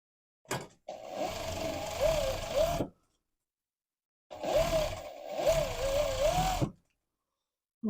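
A sewing machine stitches up the crotch seam of trousers made from a dress, running in two whirring bursts of about two seconds each, separated by a pause, close and loud with no talking.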